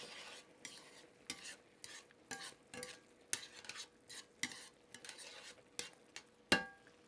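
A spoon stirs a tablespoon and a half of grainy mustard into a simmering sauce in a pan, faint repeated scrapes and taps over a soft steady sizzle, with one sharper clink near the end.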